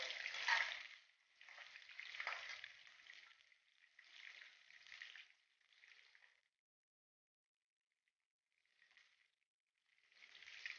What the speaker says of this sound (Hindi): इसी तरीके से हम सारे पनीर जो हैं पीसेस वो फ्राई कर लेंगे।